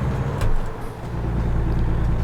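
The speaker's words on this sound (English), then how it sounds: "gearbox to brake is absolutely stupid. But I'm having to do it." Heavy truck in American Truck Simulator slowing by downshifting and braking on the gearbox: a steady low engine drone with a brief louder surge early on, running continuously without talk.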